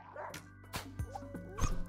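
A dog in the video game Rimworld yelps and whimpers while under attack, several short sharp cries in quick succession, fairly faint beneath game sounds.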